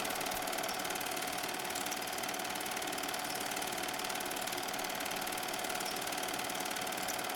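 A Bell & Howell 820 CZ dual 8 film projector runs with its motor on, giving a steady, loud mechanical whir and rapid rattling clatter that continues evenly throughout with no talking.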